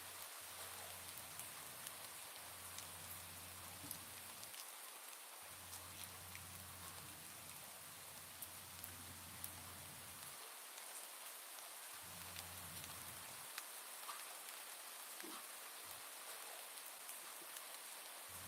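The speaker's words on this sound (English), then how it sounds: "And it's raining." Steady rain falls and patters on a surface, with a low hum that drops in and out beneath it.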